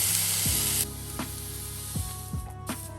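Pineapple slices sizzle in a frying pan, a loud hiss at first that drops to a quieter steady sizzle, broken by a few short scraping clicks as the slices are moved and turned.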